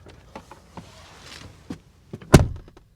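Soft clicks and rustling inside a 2021 Ford Bronco Sport, followed by a door shutting with a firm, muffled thump close at hand.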